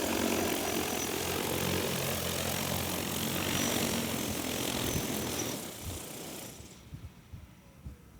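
An EAVision J100 drone roars loudly and steadily with close rotor and motor noise, then spins down and fades as it lands, leaving faint background sounds.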